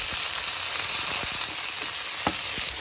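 Bok choy stir-frying in a pan, a steady close sizzle broken by a few sharp clicks and scrapes as the greens are stirred, with no talking.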